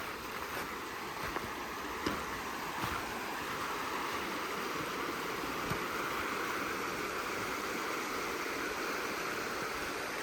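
The Lyre River flows past a campsite in a faint, continuous rushing wash, steady and distant-sounding, with no voices.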